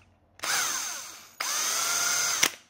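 An electric drill fitted with a 2 mm bit bores a hole in two loud bursts, each a high whine that holds steady before cutting off sharply.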